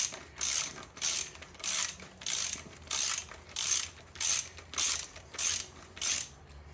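Rapid ratcheting of a socket wrench loosening an oversized bolt on an Oldsmobile L80 403 6.6-litre V8 during teardown, about ten evenly spaced bursts of clicks, close and clear with no talk.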